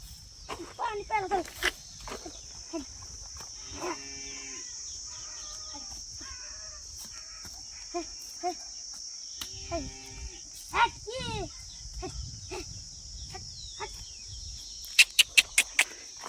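A hungry cow lowing now and then amid steady outdoor village ambience, with people talking nearby and some bird calls and rooster sounds in the background.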